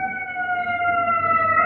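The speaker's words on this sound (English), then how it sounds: "So excuse the sirens" Emergency vehicle sirens outdoors, a steady multi-tone wail held throughout at moderate distance, with no talking over it.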